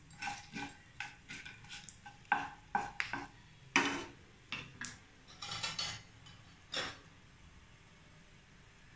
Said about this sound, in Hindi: हल्के ऑयल में थोड़ा सा सोते करें, बहुत ही अच्छी खुशबू आ जाएगी।